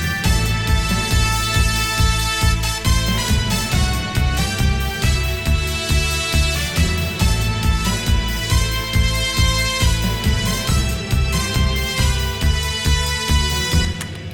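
A bright brass lead melody played on the Brass of Power patch of a Korg M1 synth, loud and sustained over harmonizing strings and a driving rhythmic backing in an energetic game-music arrangement, with no talk.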